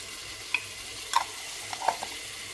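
Browned onion fries with spoonfuls of garlic and ginger paste in a pan for a beef bhuna, a soft steady sizzle broken by three or four brief scraping clicks of a spoon.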